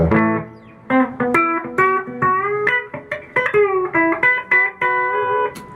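Electric guitar plays a twangy lick of quick picked notes and bends on the neck pickup, clean tone with a touch of echo from reverb and delay pedals, loud and up close.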